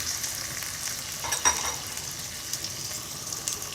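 Chicken fries in a pot for a turnip chicken curry, making a steady close hiss of sizzling oil with a few soft stirring bumps and no talk.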